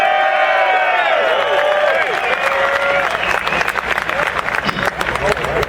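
A crowd at a 2013 Second Amendment rally in Albany, New York bursts into loud applause, whoops and cheering. It starts with sustained shouts and swells into dense, close clapping that keeps going throughout.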